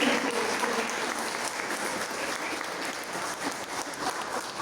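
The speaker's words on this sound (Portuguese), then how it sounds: "Aplauda ele, igreja, em nome de Jesus" A church congregation claps during a worship service, a continuous wash of applause that holds steady from start to finish, broad and moderately loud with no voice on top.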